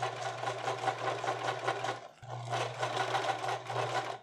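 Sewing machine stitching a seam while altering a pair of pants, a steady close whirring run that pauses briefly midway before starting up again, with no talking.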